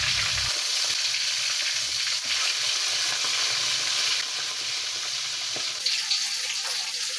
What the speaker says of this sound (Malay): Minyak dah panas, kita goreng ikan ya.